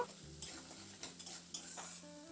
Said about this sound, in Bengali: এবার এই মশলাটাকে একটু নাড়াচাড়া করে ভেজে নেব